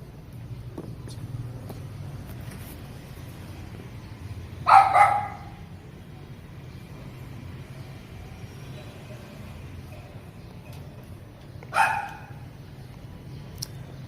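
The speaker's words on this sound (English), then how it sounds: "Oh, the dog's on the roof right now. I was wondering. Usually he's downstairs. That's why he's so loud right now." A dog on a rooftop or balcony lets out two short bursts of loud barking, one near the middle and one near the end, over quiet street background with no talking.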